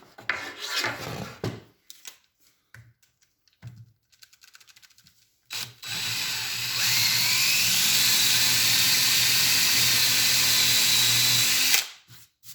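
After some scattered handling clatter, a power drill whines loudly and steadily for about six seconds as it bores straight through wood for a cabinet shelf drilling jig, then stops abruptly.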